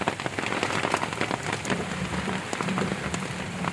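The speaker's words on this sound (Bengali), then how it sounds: "অনেক বৃষ্টি হচ্ছে।" Heavy rain pours steadily outdoors on the way to a music class, a dense, continuous hiss and patter close by with no talking over it.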